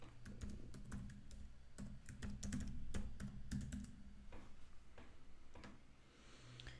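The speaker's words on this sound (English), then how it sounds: "I will type in a password for the domain admin." Rapid keystrokes on a computer keyboard as a domain admin password goes into an Azure Stack HCI virtual machine setup, a quiet irregular run of sharp clicks in bursts that slow and thin out toward the end.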